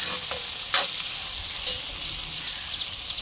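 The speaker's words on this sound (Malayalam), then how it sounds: "ഉള്ളി അങ്ങനെ വാട്ടിയെടുത്തിട്ട് ഇനി നമ്മൾ ഇഞ്ചിയും വെളുത്തുള്ളി ഇട്ടിട്ട് ഇങ്ങനെ ആക്കിയത്." Onion, ginger and garlic sizzle and fry in a pan for chicken curry, a steady close hiss with a brief stirring clatter early on.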